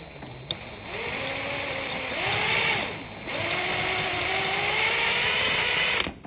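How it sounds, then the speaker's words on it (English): A power drill whines steadily while drilling a metal steering rack, its pitch rising and dipping as it bites in, loud and close with no voices. "Let's get to drilling."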